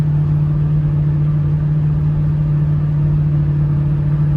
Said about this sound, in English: I don't know if you can hear the exhaust